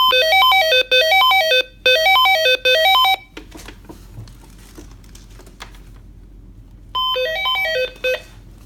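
A Posey bed alarm pad unit sounds a loud repeating electronic melody of rising and falling beeps in several bursts, broken by a quiet stretch of rustling and handling noise before the tune resumes.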